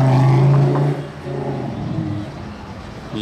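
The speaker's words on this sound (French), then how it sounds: "j'entends un vrombissement de Bugatti Chiron" A Bugatti Chiron's W16 engine drones and revs nearby at night during the Monaco Grand Prix, a deep low hum that dips briefly before rising again, with a faint rumble underneath.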